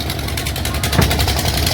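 A passenger boat's engine runs on the river at Kashi Vishwanath with a loud, steady, close-up chugging drone and no pause.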